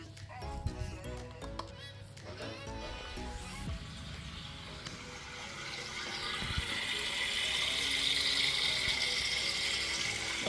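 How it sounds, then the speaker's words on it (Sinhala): An electric water pump runs in a six-foot bottom sump, its rushing, hissing water flow swelling steadily through the second half after a busier mix of knocks and tones at the start. "අපි දැන් පම්ප් එක ඔන් කරලා බලමු කොහොමද වැඩ කරන්න කියලා"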